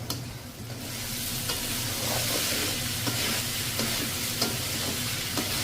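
Cauliflower, beans, carrot and new potato fry with turmeric over medium heat, a loud steady sizzle with occasional stirring scrapes, close and continuous, with no talk.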